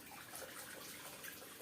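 Wort from a home brew day trickles gently back over the grain bed in a steady, soft watery wash, close and continuous with no talking.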